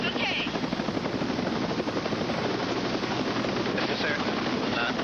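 A rescue helicopter carrying an injured lifeguard en route to a hospital roars with constant, dense rotor and turbine noise that fills the whole clip, loud and close as if heard from inside the cabin.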